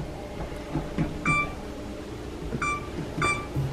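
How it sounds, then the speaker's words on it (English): A kitchen oven timer gives short electronic beeps as it is being set, several sharp blips spaced irregularly over a few seconds against a quiet room. "I'm gonna put a timer on"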